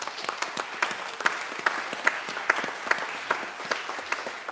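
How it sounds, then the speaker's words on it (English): A church congregation claps hands in praise during a Mother's Day worship service, many hands striking at once with distinct claps audible, moderately quiet and steady throughout. "would you give God a hand clap of praise?"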